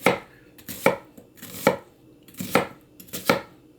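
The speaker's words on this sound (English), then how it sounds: "cut the onion in half, cut it in quarters, and leave this little root end off. Then you're going to cut it the short way, like this." A knife dices half an onion on a cutting board with a steady series of about eight crisp, close chops in an even rhythm, and no voices.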